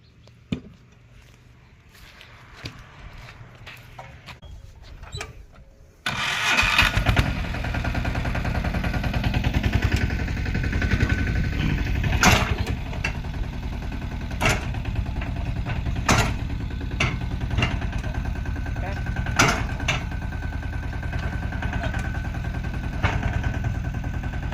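A mini tractor in a village setting is quiet for about six seconds, then its engine starts and runs loudly and steadily close by with a rough, chugging rumble.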